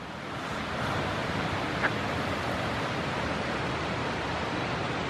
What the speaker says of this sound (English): All I can hear now is the river or the stream should I say, and birdsong.